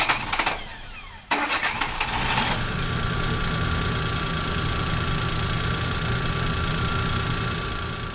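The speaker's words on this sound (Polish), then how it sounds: "zmierzy jeszcze głośność pracy tego silnika" A car engine cranks briefly, catches, and then settles into a steady, loud idle hum that runs evenly to the end.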